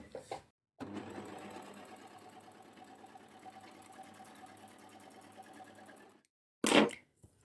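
An overlocker, or serger, stitches in a steady, even whirr for about five seconds, close and fairly quiet, framed by short pauses and a brief sharp sound at the end.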